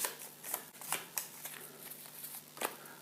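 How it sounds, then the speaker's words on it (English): Brisk riffling of playing cards being shuffled, several quick bursts of flicking paper snaps in a row, close and crisp with no talking, while setting up the board game Dawn of the Zeds. "Shuffle the cards, place one to the bottom of the deck"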